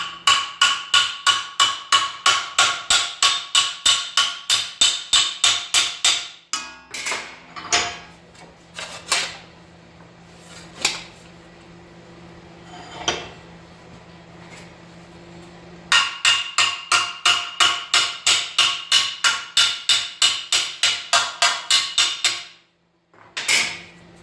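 Sheet metal edge clamped in a vise is hammered for rust repair, with rapid, evenly spaced metallic blows in two long runs separated by quieter scraping and shifting sounds.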